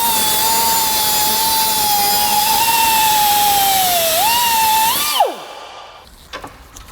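A steady, loud high whine of a power cutting tool slicing through an intercooler turbo pipe runs for about five seconds, its pitch dipping under load before it cuts off and spins down, leaving faint clatter.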